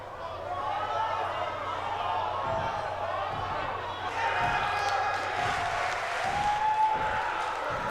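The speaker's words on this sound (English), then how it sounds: "Crowd saying they are not worthy." A pro wrestling arena crowd chants in unison, a loud sustained roar of many voices with rhythmic rises throughout, close and filling the space.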